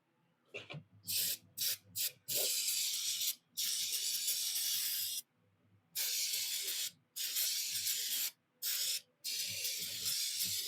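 Brake cleaner is sprayed in short and long hissing bursts onto the headstock of a 1940s Atlas metal lathe, close and fairly quiet, with brief pauses between bursts.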